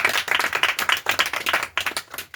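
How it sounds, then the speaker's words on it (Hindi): A small group of students claps for a classmate receiving a medal in a classroom. Brisk, close, uneven handclaps continue for a couple of seconds. "ताली बजाओ इसके लिए।"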